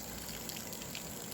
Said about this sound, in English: the water's still dripping out there